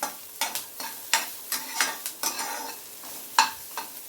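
Pieces of ginger, garlic, onion and carrot sauté on low heat for sweet corn soup, a gentle sizzle interrupted every half second or so by a spatula scraping and tapping the pan.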